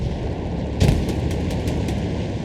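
Grenade blast in Hell Let Loose, a single sharp burst under a steady roar of battlefield noise, followed by a few faint distant cracks of gunfire.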